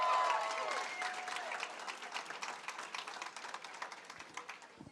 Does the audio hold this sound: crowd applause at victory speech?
yes